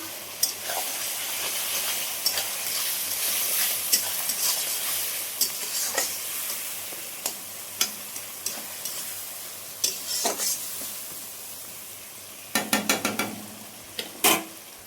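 Ginger, garlic and green chili paste fries with chicken in a pan, a constant bright sizzle and hiss with intermittent spoon scrapes and a quick burst of clattering stirs near the end.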